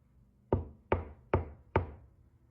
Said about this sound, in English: I set it up in the basement where the knocking should be.